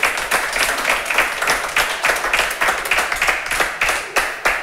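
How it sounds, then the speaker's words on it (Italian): A live crowd at a televised Italian football broadcast gives a loud burst of rhythmic clapping, dense and close, with individual hand claps audible in a steady sustained patter and a faint voice underneath. "facciamo un applauso a Gianluca da festa"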